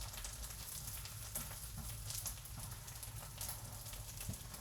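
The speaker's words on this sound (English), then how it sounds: "Just the sound of crackling while you're cooking is like such a soothing" Plantains frying in a pan give a steady, soft, close crackle and sizzle, with a fine popping texture that runs unbroken and without talk.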